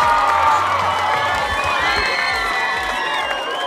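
A crowd cheers and whoops with applause underneath, lively and continuous, fading slightly toward the end.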